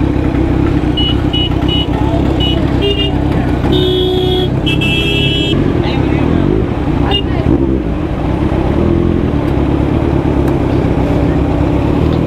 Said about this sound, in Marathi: केरळची गाडी आहे, तेलंगणा स्टेटची गाडी आहे, कर्नाटकाची गाडी आहे इथे